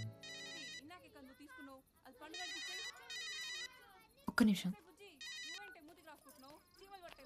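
A phone ringtone plays repeatedly in short melodic bursts, with a brief burst of noise and a short spoken phrase partway through.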